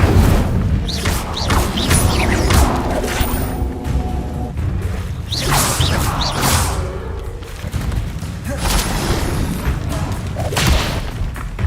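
Incendio fire spell in a video game, bursting in repeated booming whooshes and crackling blasts several times, loud and dense.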